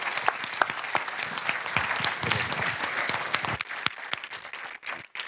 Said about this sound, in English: Can we give a big round of applause to Caroline?